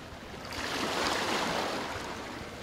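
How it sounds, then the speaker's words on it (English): Flowing water rushes in a broad, hissing wash that swells in the middle and eases off toward the end, heard alone without speech. "Flowing water."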